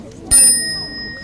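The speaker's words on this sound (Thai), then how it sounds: "when you hear the small bell, stand up" At a meditation retreat, a single strike on a small bell rings out bright and close, then leaves a long, pure tone that slowly fades. The bell signals everyone to stand up.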